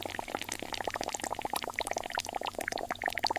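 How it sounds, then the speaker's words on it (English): Liquid solvent streams into a large factory mixing vessel holding powdered eggshell, giving a steady, busy splashing pour with dense bubbling and trickling, close and continuous throughout. "A liquid solvent streams into the vessel and begins dissolving the powder."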